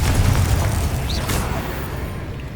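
A Confringo spell explodes in the video game Hogwarts Legacy as a short, deep, rumbling boom that swells and slowly fades over a couple of seconds, loud and close, with no voices.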